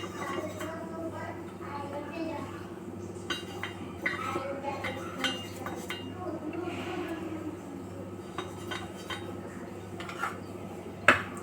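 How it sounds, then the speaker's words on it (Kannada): Metal utensils clink and scrape against a paddu pan as oil goes in, light irregular chinks over a steady background hum, with a sharper clank near the end and a voice talking faintly. "ಎಲ್ಲಕ್ಕೂ ಸ್ವಲ್ಪ ಎಣ್ಣೆ ಹಾಕ್ಕೋಬೇಕು."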